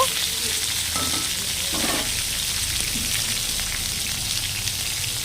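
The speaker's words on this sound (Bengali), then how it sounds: "আমগুলোকে একটু হালকা করে নাড়াচাড়া করে নেব" Mango pieces frying in a pan for Bengali mango chutney give a steady, close sizzle with a couple of brief clinks as they are stirred near the start.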